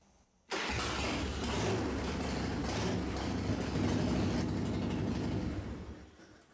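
A motorcycle engine fires up abruptly after a brief quiet moment, then runs at a steady, rumbling warm-up idle close by before easing off and fading slightly at the end.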